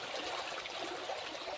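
Small woodland stream flowing steadily around someone wading through it, a continuous close rushing and bubbling of water with no talk.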